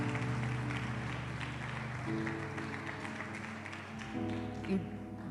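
Church congregation applauding as an offering of praise, a steady wash of clapping from many hands over sustained organ or keyboard chords, continuous for several seconds at moderate level.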